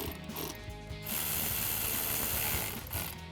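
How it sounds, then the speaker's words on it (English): A ratchet with an 8mm socket tightens hose clamps during a coil pack install on a 1999-2004 Mustang, giving a quiet continuous stream of fine clicking close by for a few seconds, without talk. "I'm going to take my ratchet, my 8mm, tighten two clamps up"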